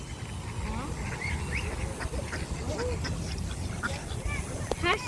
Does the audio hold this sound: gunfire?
no